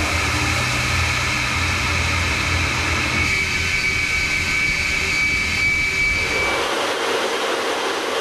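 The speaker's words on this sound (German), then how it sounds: "Die unvorstellbare Gewalt, wenn der F-22-Nachbrenner eingeschaltet wird, ist ohrenbetäubend." An F-22's F119 turbofan runs on a test stand with afterburner lit, a loud, steady, dense roar that fills the whole clip, a thin whine riding over it before the low rumble drops away near the end.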